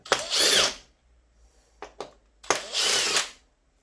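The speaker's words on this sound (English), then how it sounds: "I've got a 5/16 hex head on my drill. I'm going to go around. They come out." A cordless drill fitted with a 5/16 hex head runs in two loud whirring bursts as it backs screws out of a Zenith 440, with short clicks between the runs and no talk.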